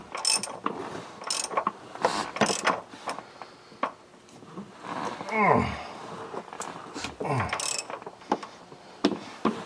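Socket wrench torquing down a bypass filter fitting on a 2011-2019 Duramax, close ratchet clicks and creaking strain in repeated bursts, with a rising creak partway through.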